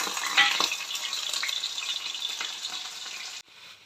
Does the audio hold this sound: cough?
no